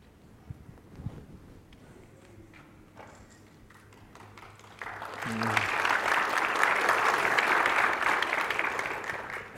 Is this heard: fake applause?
yes